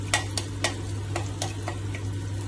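Spice masala frying in hot oil for a thin vegetable curry, a steady sizzle with several sharp scrapes of a spoon stirring through the pan, close and fairly quiet with a low hum underneath.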